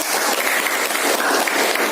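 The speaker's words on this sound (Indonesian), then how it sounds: "Tepuk tangan dulu" Classroom audience applauding a student group after a chemistry presentation, steady dense clapping throughout, loud and close, with no talk over it.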